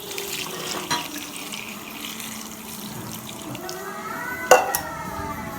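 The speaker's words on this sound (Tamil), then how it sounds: "இன்னும் தண்ணி ஊற்றலாம்." Tamarind water pours and splashes into a pot of Nagercoil-style anchovy fish curry in a kitchen, with light clinks of utensils and a brief clatter near the end.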